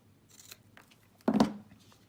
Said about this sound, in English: bring in my bigger scissors because I find that easier to keep a straight line